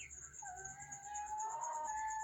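An injured hen, bitten by a dog and soaked by rain so she cannot walk, gives soft drawn-out clucking calls on a curtained balcony farm, faint and close against a quiet background.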